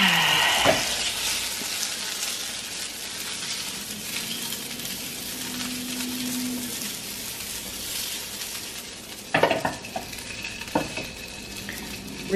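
Food frying in a pan, a constant soft sizzle throughout with a few sharp clinks and scrapes of utensils near the end.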